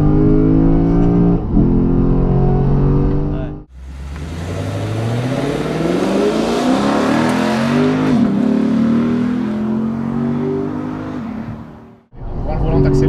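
A Lexus GS F with a 477 hp 5.0-litre V8 accelerates at full throttle, its engine note climbing steadily in pitch for several seconds before cutting off. A person talks over the idle at the start.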